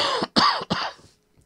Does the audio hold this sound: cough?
yes